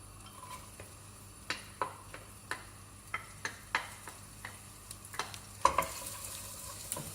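Diced ginger, garlic and onion frying in melting butter in a pan, a steady close sizzle punctuated by regular light taps and scrapes of a spoon stirring, with no talk.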